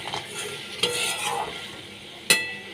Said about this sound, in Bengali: বড়িগুলো দিয়ে কিছুক্ষণ কষাতে হবে